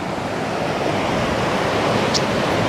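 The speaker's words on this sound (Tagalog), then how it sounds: "Ganda ng dagat." Ocean waves at the sea wash in as a steady, continuous broadband roar of surf, fairly loud and unbroken, with some wind noise and no speech.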